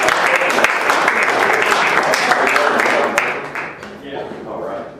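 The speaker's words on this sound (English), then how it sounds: "Everybody clap for Doug." An audience at a live comedy show applauds a volunteer, a full burst of clapping that softens toward the end as a voice starts talking over it.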